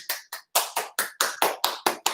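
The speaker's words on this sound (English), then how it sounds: "here's our applause" Hands clapping in a small group round of applause for a business class, a run of about ten sharp, fairly evenly spaced claps over two seconds, close and crisp, with no talking.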